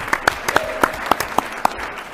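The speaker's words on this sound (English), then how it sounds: "a big round of applause for Mayor Giuliani" At a state election hearing, a few sharp claps ring out in a steady, evenly spaced rhythm, about eight distinct hits in two seconds, loud and close rather than a full crowd wash.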